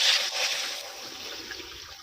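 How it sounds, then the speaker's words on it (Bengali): Water is poured into an iron wok on a gas stove, a short soft splashing trickle that fades gradually over about two seconds. "কড়ার মধ্যে একটু জল দিয়ে দিব।"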